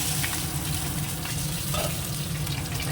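A snakehead fish head fries in hot oil in a kadai, giving a dense, continuous close sizzle with faint crackles and no talking.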